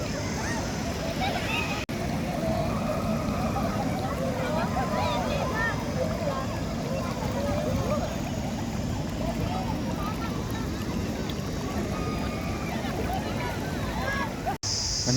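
Water rushes steadily over the Edamuri waterfalls near Mandya, a dense continuous roar that runs unbroken through the whole stretch with a voice talking over it.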